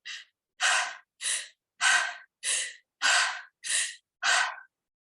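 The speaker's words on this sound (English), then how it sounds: "I do want to show what kind of breathing it is, because maybe you guys can do this at home" Mouth-only breathing exercise, in and out through the mouth with no nasal breathing: eight loud, close, airy breaths in a steady rhythm, each about half a second long, with short pauses between and no talking.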